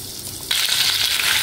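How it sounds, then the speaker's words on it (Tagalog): Onion and garlic hit hot butter in a pan, a sudden loud hiss that jumps up abruptly and holds as a dense, close sizzle, with no voices. "magigisa po ako ng sibuyas, bawang at lalagyan natin ng cooking cream"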